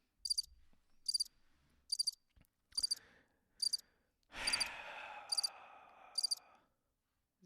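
Cricket chirping sound effect, a regular series of bright, evenly spaced chirp pulses about once a second, with a sigh-like breathy sound breaking in partway through.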